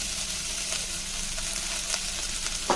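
Vegetables with green chili and curry leaves sauté in a pan, producing a loud, steady, close-up sizzle with a few faint stirring clicks.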